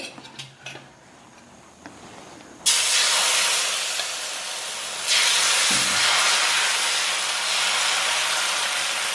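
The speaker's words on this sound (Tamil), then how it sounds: "இப்போ இந்த மாவை நான் ஊற்ற போகிறேன். தக்காளி தோசை மாவு." Tomato dosa batter poured onto a hot stone griddle bursts into a loud, steady sizzle after a quiet start, with a second surge of hissing midway that continues strongly to the end.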